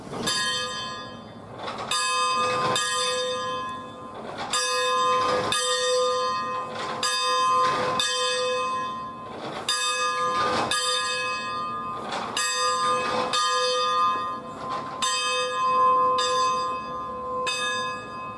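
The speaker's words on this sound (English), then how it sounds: "This is what the bell would have sounded like on number 4 when it was running." The bell of historic steam locomotive No. 4, displayed at the Virginia Museum of Transportation, rings loud and clear with a steady swinging rhythm of about fourteen strikes, each one ringing out between blows.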